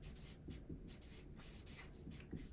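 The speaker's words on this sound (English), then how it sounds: "Let's write that down, people." Pen or pencil scratches across paper in quick, rhythmic strokes while an answer is written down in a classroom, faint and close with short pauses between bursts.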